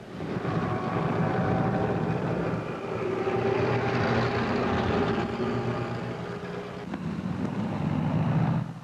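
Lufthansa Junkers airliner engines droning at an airport, a steady loud propeller-engine roar with rumbling low hum that swells and holds throughout, no talk.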